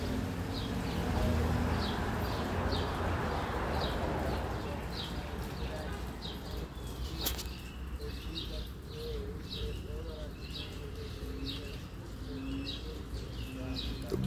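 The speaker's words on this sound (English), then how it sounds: "because you can hear the birds" Repeated bright chirps of birds singing in the distance in a Bronx park, over a loud rumbling outdoor wind and traffic background, with faint voices now and then.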